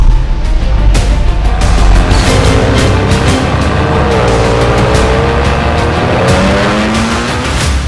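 A 600 HP Audi TT built on the MQB platform drives on the street with a loud, continuous engine roar heard from close up, revving through gears with a rising and falling pitch.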